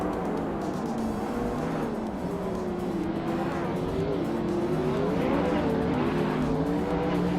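Race car engines roar continuously at the Marina Bay circuit in a racing video game, a dense, loud drone of several cars with shifting engine pitches and some tire squeal, with a 2003 Dodge Viper SRT10 among modern supercars.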